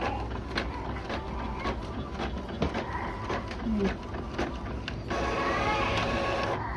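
An Epson L3110 inkjet printer runs a test page up close, giving a steady mechanical whir with rapid rhythmic clicks of the print head moving across, and the motor tone shifts near the end.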